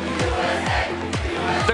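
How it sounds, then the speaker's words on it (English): Excited crowd at the Little League World Series championship game between South Korea and New York, a loud roaring wash of cheering with rising shouts and whistles swelling in repeated waves. "The crowd is hyped, and so are we."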